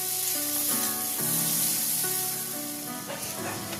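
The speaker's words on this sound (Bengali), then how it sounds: "যে পেঁয়াজটা কেটে রেখেছিলাম ওটা ভেজে নেব, ভেজে বেরেস্তা করে নেব" Sliced onions fry in hot oil for birista, a steady bright sizzle close up with soft stirring sounds and a faint background tone running beneath.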